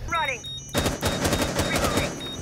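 Rapid gunfire from Rainbow Six Siege gameplay bursts in after a short tonal sound and keeps going as a dense, loud, fast stream of shots to the end.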